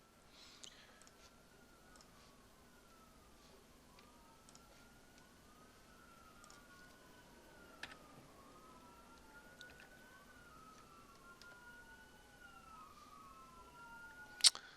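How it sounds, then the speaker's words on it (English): Faint sirens from emergency vehicles outside an open window, a repeated rising and falling wail cycling steadily in the distance, with a few soft clicks and no talking. "Sorry about the sirens."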